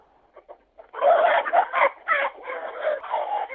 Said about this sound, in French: actuellement, je suis dans mon poulailler au milieu des poules